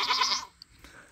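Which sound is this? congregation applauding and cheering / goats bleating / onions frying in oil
goats bleating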